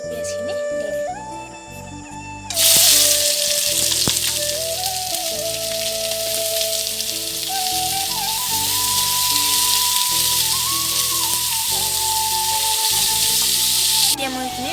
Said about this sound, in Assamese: তেলখিনি গৰম হৈ গ'ল এতিয়া মই ইয়াতে আমাৰ কাটি থোৱা পিঁয়াজখিনি দি দিম